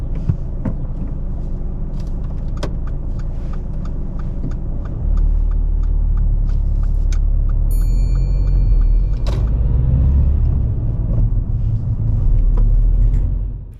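A car moves away from the roadside during a driving lesson. A low engine rumble swells midway as it pulls off, with light clicks and cabin noise and no talking.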